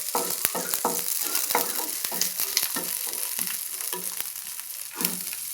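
Chopped carrot, chilli and onion are stirred and fried in a pan for egg semiya: a constant close sizzle broken by frequent scraping clicks of a spoon against the pan in an uneven rhythm.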